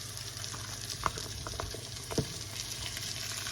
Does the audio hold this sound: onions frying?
yes